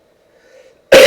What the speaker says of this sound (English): blooming cough